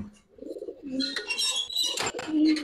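Pigeons, high-flyer and Giribaz birds, coo softly in low throaty calls close by, with brief bursts of fluttering wings and rustling.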